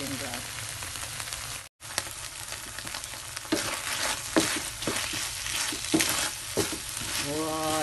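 Tuna sisig sizzles loudly in a pan as it browns until golden, with scraping stirs and crackling bursts throughout and one brief silent gap near the start.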